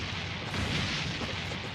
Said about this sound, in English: Explosion and fire, everybody.